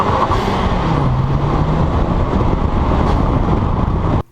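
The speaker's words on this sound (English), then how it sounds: "turn off traction control and floor it through first and second" A car launched hard through first and second gear with traction control switched off, riding on Michelin Pilot Super Sport tires; a loud, steady engine roar with a rising tonal whine holds close and alone, then cuts off abruptly at the end.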